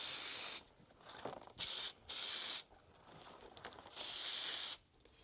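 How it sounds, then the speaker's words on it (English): Aerosol lubricant sprayed onto a motorcycle chain in several separate hissing bursts of varying length, close and fairly loud, with quiet gaps between them and no talking. "Okay, that's the lubricant bit done. So the chain is now all lubed up."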